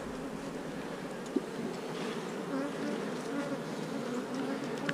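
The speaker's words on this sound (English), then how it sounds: "Tons of bees in here." Dense, steady drone of honey bees swarming inside an opened hive box during a walkaway split, close and continuous with no talk.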